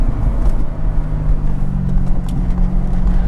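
C6 Corvette ZR1 accelerating, its supercharged engine giving a steady, loud low rumble with a faint rising whine building over it, heard close from inside the car.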